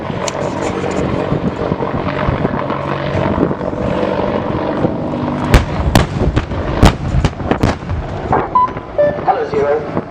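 Loud pyrotechnic blasts simulating gunship rocket fire at the 2016 Farnborough airshow, several sharp booms in quick succession over a constant helicopter rotor and engine roar, with a voice talking over the noise.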